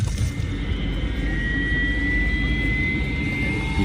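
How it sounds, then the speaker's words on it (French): Jet engines of an Air Koryo airliner warming up before departure from Pyongyang, a steady roaring whine with a rising high-pitched tone, heard from inside the cabin with no talk. "Ils chauffent déjà les moteurs."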